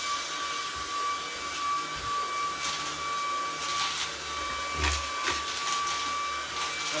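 A Shark IF250UK cordless vacuum cleaner runs steadily in carpet mode at high power, a close, continuous motor whine and airflow hiss with faint bumps as it moves over the floor.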